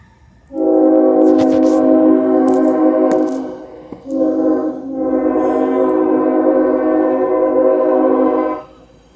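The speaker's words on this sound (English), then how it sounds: "here go the train" A passing train sounds a loud, sustained horn in two long blasts, a steady multi-tone chord with a brief break between them, close by and clear over faint background rumble.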